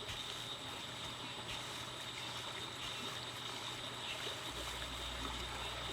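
Creek water runs steadily as a sound effect in a fantasy audio drama, a soft, continuous trickling and burbling stream with no voices over it.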